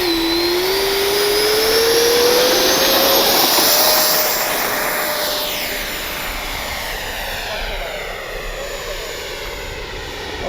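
A Freewing 90mm J-10 RC jet taking off, its ducted-fan engine spooling up to a loud, rising whine that roars past and then fades somewhat into the distance as it climbs.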